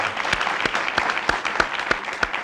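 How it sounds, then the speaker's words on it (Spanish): A studio audience applauds a guest during a Spanish-language interview show, clapping mixed with several sharp, louder individual claps landing at a fairly even rhythm over a couple of seconds. "Un aplauso para Javier, por favor."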